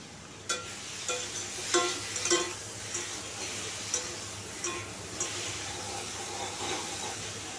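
Potatoes frying with ground spices in a pan, a soft low sizzle broken by a series of spatula scrapes and knocks at irregular intervals, fairly faint and with no talking.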